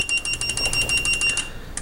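A PLC-controlled project game beeps after a win with a rapid run of high, thin electronic beeps, about a dozen and a half in quick succession, fairly faint, then one last beep after a short pause.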